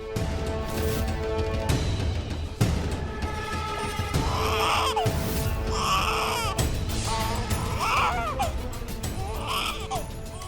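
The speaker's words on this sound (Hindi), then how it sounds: "शायद बच्चे की रोने की आवाज इधर से आ रही है।" A baby cries in repeated wailing bursts over a dramatic television scene, the sobs rising and falling about every two seconds beneath a constant musical background.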